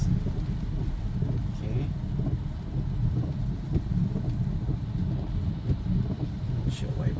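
A 2022 Long Range Tesla Model Y drives on Full Self Driving Beta, giving a steady low cabin rumble of road and tire noise throughout, with a brief spoken word near the start.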